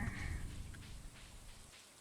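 Rain falling in the farming video game Stardew Valley, a steady, soft hiss of downpour with a low rumble fading out toward the end, with no voices.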